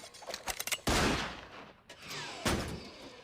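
Gunshots in a Futurama cartoon episode ring out as a couple of sharp, loud blasts with echoing decay, separated by a short gap, with no talk over them.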